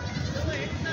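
Goats bleat amid a busy weekly goat market in Vasmat, Maharashtra, beside the Parbhani highway. A short, dense wash of crowd noise and animal calls carries throughout, with faint voices mixed in.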